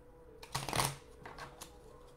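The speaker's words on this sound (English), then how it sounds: "So I guess I have to shuffle again." Tarot cards being shuffled by hand indoors, a quick riffle of crisp papery flutters that is loudest near the middle and trails into a few softer card taps, with no voices.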